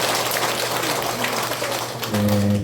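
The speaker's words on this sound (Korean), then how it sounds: "박수." An audience at a health lecture claps in a dense, even patter that runs throughout, joined near the end by a steady tonal hum.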